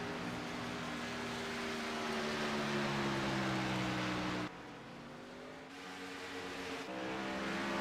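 Race car engine in a sim racing game on a Las Vegas track, a steady high droning whine that holds, drops away abruptly and then climbs back as the car gets up to speed, with no voices.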